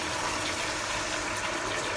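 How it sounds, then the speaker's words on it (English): Water pours steadily into a cooking pot for Jamaican brown stew pork made with burnt sugar, a continuous close rushing splash with no voice over it. "So I'm gonna add a little more water"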